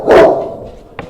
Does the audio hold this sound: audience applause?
no